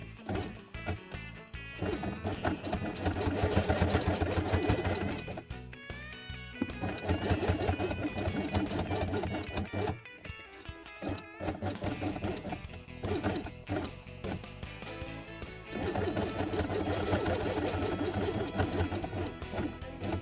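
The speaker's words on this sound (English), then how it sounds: "place everything on dark brown felt and sew only brown element along the edge" A sewing machine with brown upper and lower threads stitches the edge of a brown element onto dark brown felt, running loudly and continuously with brief pauses and rhythmic mechanical clatter.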